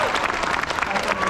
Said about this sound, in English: we start off with a nice big round of applause for the star of our show.